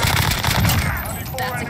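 Rapid automatic gunfire in a shooter video game, loud and dense at first and then easing off, with a few sharp separate shots near the end and speech faintly present.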